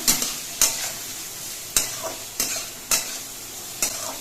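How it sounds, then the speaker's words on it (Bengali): Ash gourd peels stirred in a frying pan over a medium gas flame, a steady sizzle beneath sharp, repeated scrapes of the spatula coming at irregular intervals, close and fairly loud. "গ্যাসের ফ্লেমটা মাঝারিভাবে রেখে নিয়ে এই খোসাগুলোকে ভেজে নিতে হবে"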